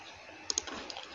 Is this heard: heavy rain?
no